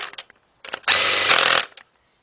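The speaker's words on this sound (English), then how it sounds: "Switch over to a 13mm deep 3/8 drive, and tighten those two up" Power tool tightening bolts with a 13mm deep 3/8 drive socket on a Chrysler Sebring, Dodge Avenger or Charger timing cover job, a single loud, close burst of whirring lasting under a second between brief clicks and handling noises.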